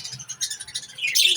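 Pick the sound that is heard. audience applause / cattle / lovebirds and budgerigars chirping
lovebirds and budgerigars chirping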